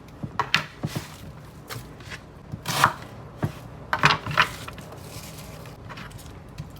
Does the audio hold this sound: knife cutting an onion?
yes